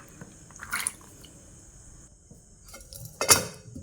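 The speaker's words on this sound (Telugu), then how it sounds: "కుక్కర్లోనైతే వేసుకుంటున్నాను." Soaked sprouts are tipped into a pressure cooker in a home kitchen, giving two short wet, splashy clatters, the second louder, separated by quiet, with no talking.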